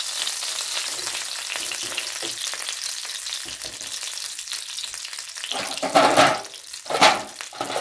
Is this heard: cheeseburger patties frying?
yes